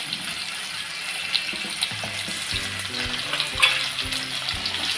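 Chopped onions and green chilies fry in a pan for a banana-flower vegetable dish, giving a steady close sizzle broken by light scrapes and clinks of stirring, with no one talking.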